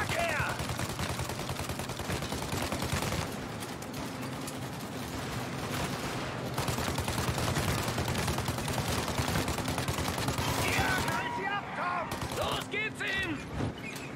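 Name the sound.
gunfire in Mafia Definitive Edition video game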